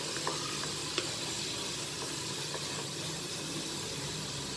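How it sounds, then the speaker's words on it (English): Chopped onions sizzle in oil in a pan for a vegetable khichadi, a steady soft hiss with occasional faint clicks of stirring, fairly quiet throughout. "So just stir that and wait until the onions become translucent"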